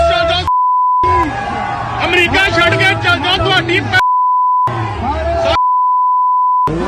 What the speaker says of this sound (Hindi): हमने बीप कर दिया है जहां पर गाली की आवाज है